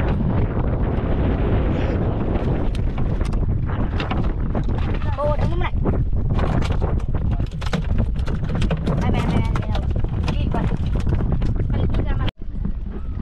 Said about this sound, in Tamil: அழகாக சும்மா ஜிலு ஜிலு ஜிலு ஜிலு ஜிலுன்னு காற்றடிக்குது.